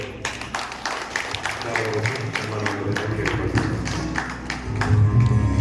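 An audience at an inauguration ceremony of a civic service committee in Haluvalli claps in steady, dense applause, with a low sustained tone and faint voices underneath.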